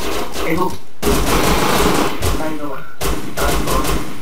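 Loud bursts of rapid gunfire in the video game Rust rattle close up, broken by brief pauses between volleys.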